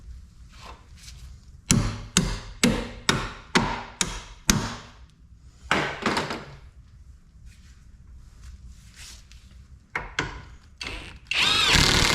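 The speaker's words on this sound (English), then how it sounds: "Tighten that up, spin it around, tighten up the other one." An impact-style power tool drives a cross bolt during front wheel bearing replacement on a 2006–2011 Kia Rio, firing in a quick series of sharp bursts, then pausing before a few more short bursts close by.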